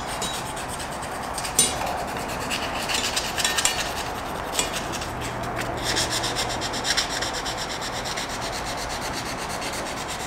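Hand sanding with 320-grit sandpaper makes a steady, close-up scratchy rubbing that keeps going in continuous back-and-forth strokes with small clicks now and then, and no voices are heard.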